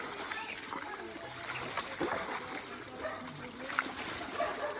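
Water splashes and trickles along a water channel, close and steady with sloshing bursts, while people talk over it outdoors.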